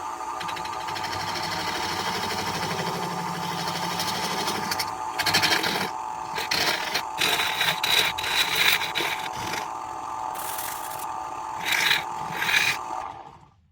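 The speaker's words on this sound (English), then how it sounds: "here's my naughty little dovetail tool" A dovetail gouge cuts a hawthorn crotch bowl spinning on a wood lathe, a steady scraping hum for several seconds, then broken by stops and short rough bursts.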